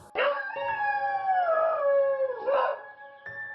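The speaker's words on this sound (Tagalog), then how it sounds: "nang biglang may umalulong na aso." A dog howls at night, one long wavering, drawn-out howl rising and sagging in pitch, then a second shorter howl and the start of a third, loud and fairly close with no other sounds.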